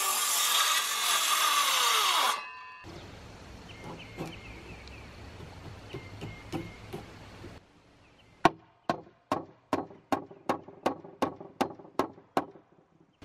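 A lumber board is cut to length for a playhouse foundation built from 4x4 and 2x6 lumber. A loud, close saw runs for a couple of seconds, then quieter rubbing and tool noise follow, and a run of sharp, evenly spaced knocks ends it.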